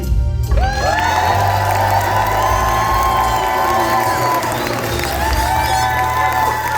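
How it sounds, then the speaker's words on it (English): A game-show audience rises in a standing ovation, loud close cheering, whooping and clapping all at once, with excited shouts layered over a continuous roar of the crowd from start to finish. "A standing ovation. You guys did not need to do that."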